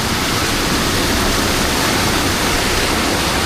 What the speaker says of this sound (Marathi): पाणी बघा खूप पाणी इला